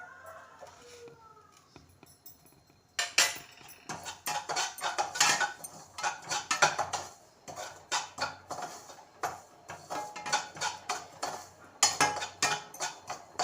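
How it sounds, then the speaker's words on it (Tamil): Semolina being stirred as it dry-roasts in a pan for aravai urundai, with dense, uneven scraping and clinking strokes of a spoon against metal that start loud after a quieter opening and carry on steadily to the end, no talk. "இப்போ அதை வறுத்துட்டே இருக்கிற நேரத்தில் இது திருப்பி கொஞ்சம் கிளறி விட்டுக்கலாம்."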